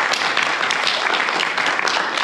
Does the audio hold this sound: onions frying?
no